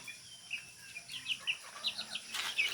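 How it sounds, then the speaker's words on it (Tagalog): Backyard chickens cluck and chirp in a short burst of high, repeated calls with a faint soft flutter, close by and without talk. "So that's my chickens."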